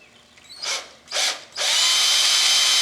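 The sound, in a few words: drilling a small hole in wood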